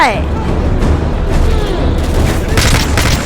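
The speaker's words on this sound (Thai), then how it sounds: "ยิงลูกระเบิดมา" Explosions and gunfire from the video game Call of Duty Modern Warfare 3 rumble loudly and continuously, with booms and bursts layered under excited talking.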